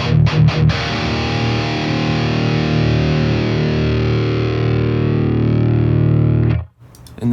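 Electric guitar played through a BOSS Katana MK2 amp with a deep, bass-heavy EQ and distortion: a few quick muted picks, then one loud sustained chord ringing for about six seconds before it is cut off, followed by brief scratches.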